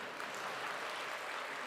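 A church congregation applauds during a Sunday sermon: a faint, steady wash of clapping from many hands fills the whole moment, distant and even.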